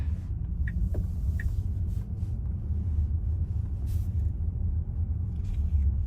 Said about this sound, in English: hear the noise when I speed up the car, and the noise from outside the car